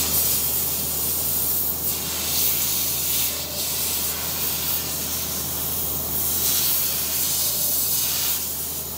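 Compressed air blasting steadily across an open machine vise to clear away shims, a loud continuous hiss with slight surges, no voices.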